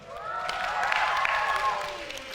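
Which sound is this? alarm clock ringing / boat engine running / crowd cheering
crowd cheering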